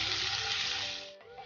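Chopped green chillies hit hot oil with whole cumin and asafoetida, giving a loud, steady sizzle that softens and dips briefly near the end.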